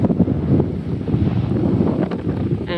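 Strong wind buffets the microphone on open beach dunes at a Florida state park near New Smyrna Beach, a steady loud low rumble with gusty swells throughout and no voices.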